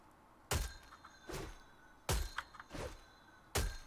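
Three sharp, hard impacts spaced apart from the Minty Pickaxe swing in Fortnite, each followed by a softer knock and a faint bell-like ringing tail, with no voices.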